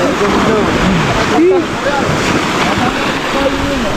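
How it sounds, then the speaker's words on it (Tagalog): Strong ocean waves surging at a seashore, a loud, continuous roaring wash with gusty wind noise buffeting the microphone and faint voices partly buried beneath it. "Sobrang lakas ng alon."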